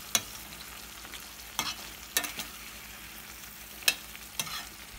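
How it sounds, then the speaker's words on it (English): Raw banana green curry stirred in a pan over low sizzling, with a handful of spaced spoon scrapes and taps against the pan, close and moderately quiet, no voices. "Just mix it very well so that it will not stick to the bottom of the pan."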